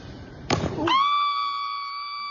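A woman lets out a sudden high scream that settles into a long, sustained shrill wail with strong overtones, loud and close, following a brief burst of rustling noise.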